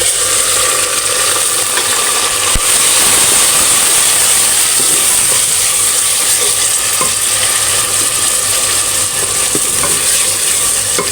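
Minced garlic is stirred into hot oil with fried onions and garam masala in a pan, giving a loud, steady sizzle and hiss with occasional scraping and clinking of the spoon, no talking.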